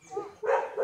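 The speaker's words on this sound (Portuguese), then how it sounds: "Um monte de cachorro bravo ali" Angry dogs bark at an abandoned, fire-damaged building in rural Brazil, giving two quick, fairly close barks in under a second.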